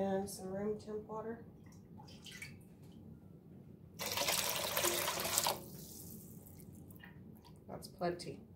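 Running water pours steadily for about a second and a half, a broadband rush that stops abruptly, with a voice talking before and after.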